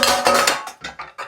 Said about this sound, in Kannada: ಇದು ಪಾತ್ರೆ ಪ್ಲೇಟ್ ಅಲ್ಲಿ ಹಾಕೊಂಬಿಡೋಣ.